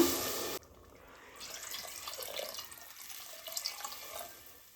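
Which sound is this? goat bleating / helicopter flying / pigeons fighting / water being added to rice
water being added to rice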